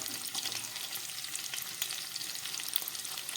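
Chopped carrots and beans frying in a pan for restaurant-style mixed fried rice, a dense, steady sizzle close up with faint stirring, no talk.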